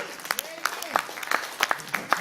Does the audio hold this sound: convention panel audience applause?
yes